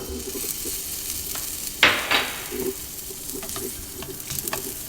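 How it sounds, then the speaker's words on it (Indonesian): Oil sizzles steadily in a pan as garlic fries over low heat, with light stirring scrapes and a brief louder crackle burst, close by with no talking. "Bawang putih kita goreng asal saja, tidak perlu terlalu berubah warna coklat atau terlalu matang."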